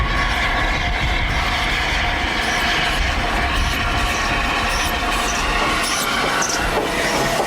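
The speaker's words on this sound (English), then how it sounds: "Although the locomotive is an express passenger type" Express passenger type steam locomotive running on a heritage railway, heard as a steady, loud rolling rumble of wheels and carriages with faint rail squeals and clatter throughout.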